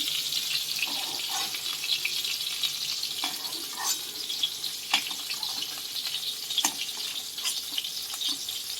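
Whole pointed gourds (potol) fry in a pan with a steady, dense sizzle, broken by a few soft clicks of stirring, close and even throughout with no voices.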